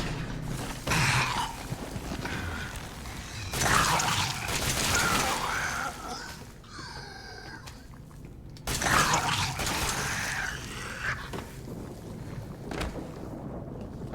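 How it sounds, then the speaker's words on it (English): Elevator running in the survival horror game Resident Evil 7, a continuous mechanical hum and rumble with loud clanking surges and a whooshing, shifting swell midway, no speech. "Call the elevator."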